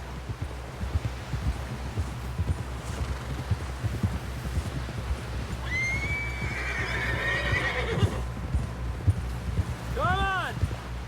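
A horse in the Red Dead Redemption 2 video game neighs with a long whinny midway, then gives a second shorter whinny near the end, over steady low rumble and soft hoof thuds.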